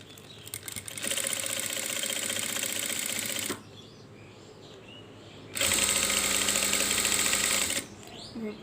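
Two loud, steady runs of a sewing machine attach a zipper to the back of a dress, separated by a quieter pause of handling between them.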